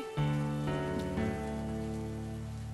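Heavy rain pours steadily and densely throughout, forming a continuous wash of noise under sustained, droning musical tones.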